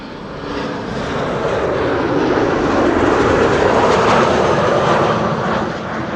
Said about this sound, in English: KLM flight 1774 arriving from Berlin, Embraer 190.